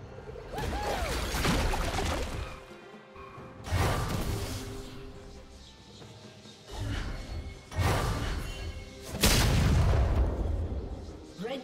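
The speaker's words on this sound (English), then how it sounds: "Red Team's turret has been destroyed" Turret explosions in League of Legends, from a Sett versus Galio mid-lane match. Loud booming blasts and heavy thuds recur through the stretch, with the biggest hits near the middle and the end, over continuous game noise.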